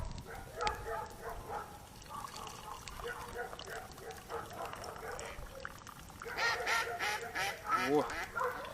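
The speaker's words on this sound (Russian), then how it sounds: "утки" Ducks quacking by a river, a busy overlapping chorus of calls that grows louder toward the end, with people talking faintly underneath.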